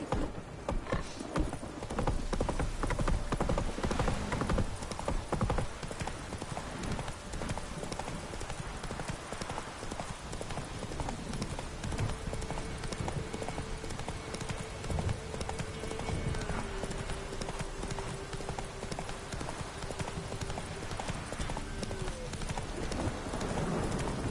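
Roach, a horse in The Witcher video game, gallops with rapid, continuous hoofbeats close by over soft ambient music, with brief voices speaking over it.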